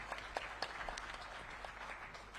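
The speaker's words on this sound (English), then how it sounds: "Let's give him a round of applause for that." Audience at the closing session of the African Potato Association conference applauding, a moderate, steady patter of clapping with a few sharper individual claps standing out.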